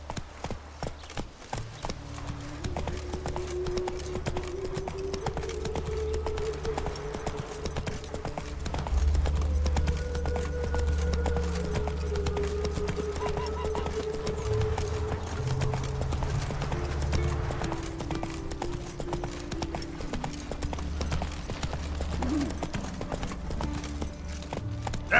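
Roach, the horse in The Witcher 3, trots with a steady clip-clop of hooves, rhythmic and continuous, beneath a humming ambient music score and distant low rumble.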